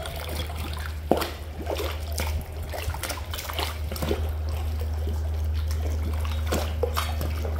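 Pig carcass swished around in hot scalding water, giving soft sloshing, trickling and splashing over a low steady hum, continuous and close with no talking.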